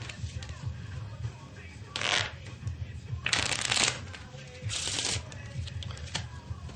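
Playing cards shuffled during a card trick tutorial, heard as three distinct riffling bursts of crisp fluttering paper over a low, steady background hum.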